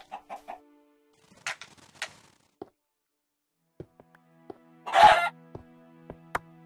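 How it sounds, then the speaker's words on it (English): A Minecraft chicken clucks in short, sparse bursts between near-silent gaps, with a few sharp clicks and a louder scratchy burst midway, close and fairly clear. "There's a chicken down here."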